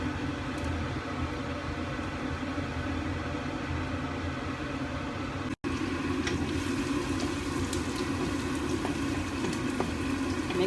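Garlic and onion frying in olive oil for a creamy mushroom and chicken risotto: a steady, dense sizzle that holds at an even level, broken once by a momentary cutout partway through.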